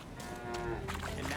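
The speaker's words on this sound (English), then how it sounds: "Hello, cow." A cow moos in The Witcher 3: Wild Hunt, one steady drawn-out low call lasting over a second, fairly close and loud, with no talking over it.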